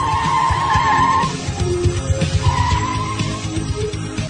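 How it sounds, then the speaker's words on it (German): A car skids with a long tire squeal and then pulls away with a loud, close engine roar in a radio play sound effect. "Michael fährt zum Sattelzug der Foundation"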